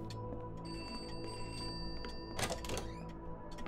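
A phone rings inside a house in the video game Pineview Drive, heard steadily and somewhat muffled as if through thin walls, with faint clunks near the end and no talking.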